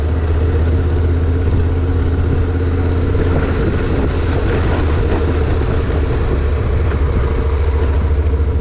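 A Honda NC700X DCT motorcycle rolls along dirt and gravel under throttle, with a steady low engine drone and heavy wind rumble that stay loud and constant throughout.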